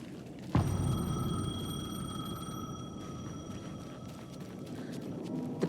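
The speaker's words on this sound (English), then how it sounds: "The payphone was ringing." A payphone rings in Alan Wake 2, its steady electronic trill of sustained tones running unbroken for several seconds over a low, dark ambient rumble in the game's atmosphere.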